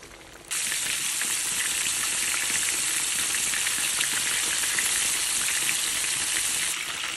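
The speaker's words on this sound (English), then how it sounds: "Allow this to fry for roughly about 4 to 5 minutes or until golden brown." Country fried steak frying in hot oil, a loud, steady close-up sizzle with dense crackling that holds evenly throughout, with no voices.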